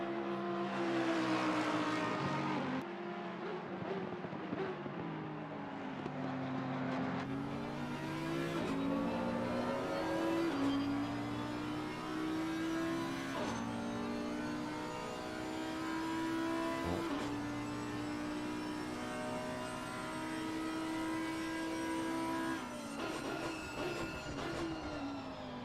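Audi GT3 race cars in Assetto Corsa Competizione lap Kyalami together, a sustained layered engine howl whose pitch climbs and dips through gear changes, loud and steady with no voices.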